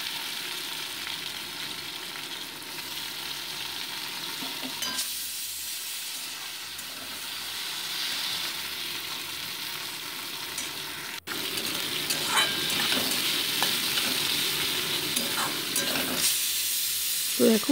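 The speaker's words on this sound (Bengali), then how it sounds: "এবার কড়াইতে সর্ষের তেল গরম বসিয়ে রিং পিস করা উচ্ছেগুলোকে আমি নুন হলুদ মাখিয়ে ভেজে নিচ্ছি" Bitter gourd rings coated in salt and turmeric fry in hot mustard oil in a kadai, a steady close sizzle and hiss that runs throughout, with a sharp clink of a utensil partway through.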